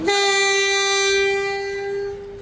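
A train horn sounds one long, loud, steady blast at a railway station in Sri Lanka, fading slightly toward the end.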